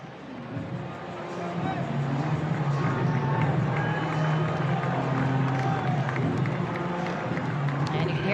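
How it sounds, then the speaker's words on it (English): Baseball stadium crowd at a Kansas City Royals home game cheering loudly and steadily for their captain, a sustained roar of voices with scattered clapping that swells within the first second and holds near and full throughout. "And you can hear the crowd for their captain"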